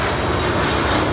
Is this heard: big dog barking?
no